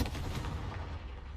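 The Confringo blasting spell in the Hogwarts Legacy video game lands as a single short, heavy boom that rumbles and fades over about a second.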